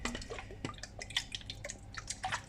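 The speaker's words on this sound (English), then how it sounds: "I'm going to add in a few drops of lemon juice to make" A few drops of lemon juice falling into milk while making buttermilk, small faint irregular drips and splashes close by, no talking.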